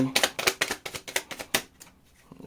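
A deck of tarot cards riffled and shuffled up close in quick bursts of crisp flicking, about seven rapid snaps followed by a softer trailing rustle and a few faint taps.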